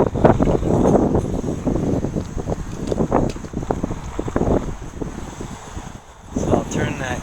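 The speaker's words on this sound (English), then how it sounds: "It's definitely a windy day out here." Gusty wind buffets the microphone outdoors beside a Coleman single-burner propane stove, a loud, rumbling roar that swells and dips over several seconds and briefly eases near the end.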